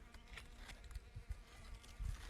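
Bee buzzing as it flies over yellow watermelon flowers while pollinating in an outdoor melon field, a faint, steady insect drone with brief louder passes near the microphone.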